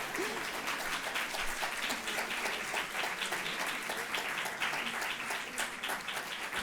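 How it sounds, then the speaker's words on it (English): An audience at a library talk applauds, a dense, sustained wash of many hands clapping at once, steady and moderately loud with no break for the whole stretch. "We have to applaud you first"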